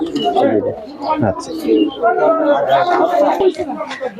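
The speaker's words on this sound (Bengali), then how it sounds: "খুব সুন্দর একটা কবুতর" Pigeons coo at a busy Brahmanbaria poultry and pigeon market, their soft calls mixed into steady crowd chatter as people talk throughout.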